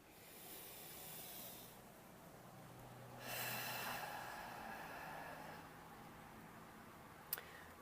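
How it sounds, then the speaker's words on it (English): Someone takes a slow deep breath. First comes a soft airy hiss of inhaling, then a longer, louder rush of exhaling, and it closes with a faint click. "let's all take a nice deep breath once again"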